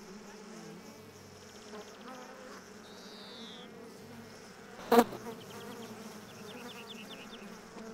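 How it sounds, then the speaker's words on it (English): Summer insects such as bees, wasps and flies buzz around ripe grapes outdoors, a soft continuous drone with a few passing whines, and a brief sharp knock near the middle. "the sweet sugary smell of ripe grapes is a big attraction, especially for insects"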